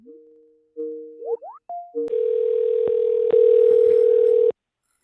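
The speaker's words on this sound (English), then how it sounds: "let's go ahead and call this number and see how it sounds" Several short dialing tones and blips, then a loud steady ringing tone holds for a couple of seconds before cutting off.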